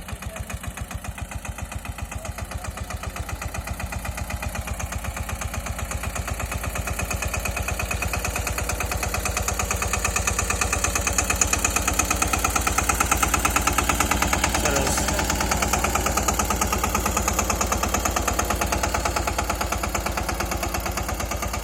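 A Massey Ferguson 5118 tractor engine idles close by with a steady, rapid, throbbing pulse that grows slightly louder midway and then holds even.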